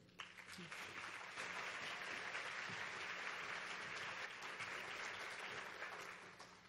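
Sustained audience applause at the 2015 National Sexual Assault Conference as a speaker is welcomed, steady, dense clapping from a large hall holding at full strength for several seconds before tapering slightly at the end.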